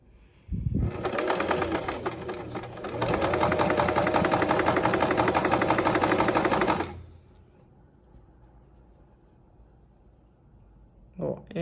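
A domestic sewing machine runs a narrow topstitch along a cord strap for a dress, a steady rapid stitching whir lasting about six seconds with a brief change in pace, then stopping into quiet room tone.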